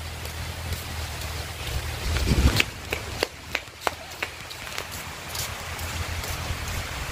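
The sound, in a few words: rain falling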